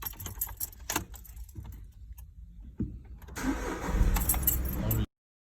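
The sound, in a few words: Volkswagen Polo engine starting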